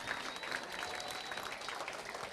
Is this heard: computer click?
no